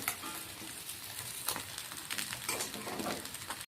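Katla fish frying in oil, a soft continuous sizzle with occasional stirring scrapes, close and fairly quiet, with no talk.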